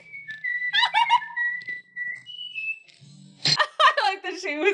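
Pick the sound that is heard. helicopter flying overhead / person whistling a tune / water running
person whistling a tune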